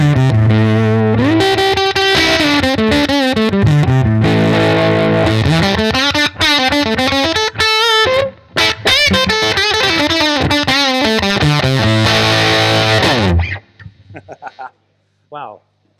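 Built-in fuzz distortion from a vintage valve radio reworked as an amp and playing through a Jensen P10R speaker: a loud, buzzy, heavily saturated guitar line with sliding bends that cuts off abruptly, followed by a few faint squeaky bursts.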